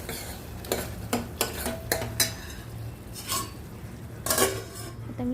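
A metal spoon scrapes and clinks against a pan as ground masala is stirred with water poured from a mixer jar, for an egg curry. The sharp, irregular knocks come close, over a faint low hum.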